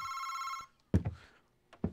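In the horror video game August Night, a telephone bell rings steadily for over half a second, then stops, followed by a few dull thunks.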